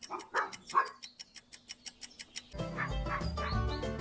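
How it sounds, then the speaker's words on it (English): A dog barks several times in quick succession, followed by a steady run of rhythmic ticks and then a loud burst of mixed animal noise, offered as a farm animal sound quiz. "It's a dog."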